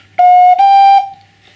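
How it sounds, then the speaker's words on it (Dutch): A ceramic whistle flute sounds one steady, loud tuning note close up, with a brief break partway through before the tone tails off into quiet. "Nu ga ik naar de eerste toon luisteren."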